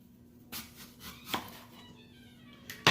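A knife slicing a washed apple into thick slices on a board, with three or four distinct crisp cuts spaced irregularly, the last one the loudest, against a quiet room.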